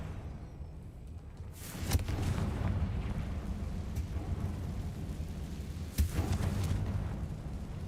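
Confringo fire spell blasts in Hogwarts Legacy: two sharp booming explosions about four seconds apart, each with a crackling burst, over a steady rumbling game background, no talk.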